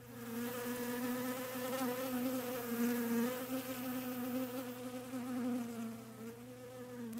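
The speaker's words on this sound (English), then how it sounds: "listen to the buzz in your hive, your team hive" A honeybee hive buzzing steadily, a dense continuous drone of many bees with a slightly wavering pitch, close and even throughout without pauses.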